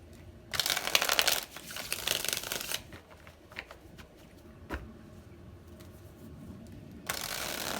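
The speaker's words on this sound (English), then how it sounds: "Maybe one more shuffle and then we'll get to pulling." Tarot cards being shuffled close up, with quick riffling bursts, a pause of softer handling, single taps and clicks, then another riffle starting at the end.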